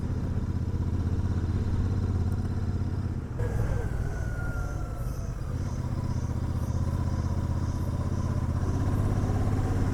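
Motorcycle riding through a Himalayan banj oak forest on a mountain road, its engine droning steadily and close for the whole stretch under rushing wind.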